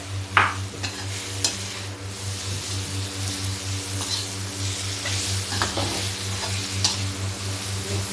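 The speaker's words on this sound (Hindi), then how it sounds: "इसमें हम डाल देते हैं प्याज जो मैंने फ्राई करके रखा हुआ है।" Fried onions stirred into cooking okra sabzi in a pan, with a soft steady sizzle under a low constant hum and a few scraping stirs, close by; no one speaks.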